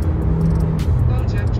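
An American baby muscle car with an automatic gearbox is floored hard, its engine giving a loud, close, continuous low roar that holds steady throughout.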